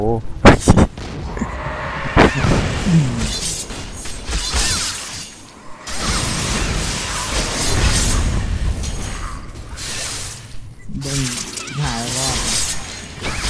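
A charged skill in the online game TERA sets off repeated explosive booms and shattering bursts within dense, continuous combat effects, with voices talking over the action.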